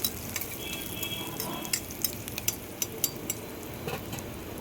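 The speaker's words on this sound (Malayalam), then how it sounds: "സവാള, പച്ചമുളക്, ഇഞ്ചി ഇതൊക്കെ ചേർത്ത് നന്നായിട്ടൊന്ന് വഴറ്റി കൊടുക്കണം" Onion, green chili and ginger sauté in a pan for a sardine curry, a soft steady sizzle with scattered light taps and scrapes of a spoon, moderately close, with no talk.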